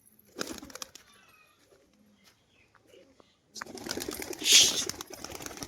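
A fancy tumbler pigeon gives soft, faint cooing against a quiet background, followed by a louder rushing burst near the end.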